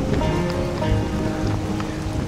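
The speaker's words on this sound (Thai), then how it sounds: "ฝนตกนี่ก็เย็นดีครับ" Steady rain falls with a constant broadband hiss during an outdoor run in light drizzle, soft patters and drops spread evenly throughout, no talking.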